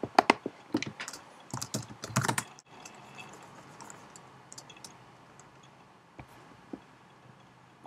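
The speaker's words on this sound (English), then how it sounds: "You have to type in your password." Fingers type a password on a Mac computer keyboard in quick, irregular bursts of crisp clicks. A dense flurry comes at the start, then a pause, then a few sparse isolated taps in a quiet room.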